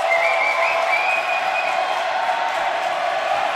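Steady wall of cheering and applause from a large indoor crowd on its feet at a college volleyball match in a packed gym, loud and sustained throughout, with a whistle-like tone drifting over the roar.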